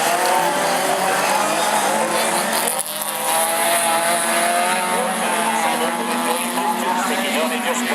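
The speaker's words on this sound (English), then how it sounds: "But as they come up this time, it's Nottingham 10, leading the field, Martin James." Autograss race cars roar around a dirt track at a Nottingham bonfire-night meeting, a dense continuous engine drone with a brief dip near the three-second mark, under a commentator's voice.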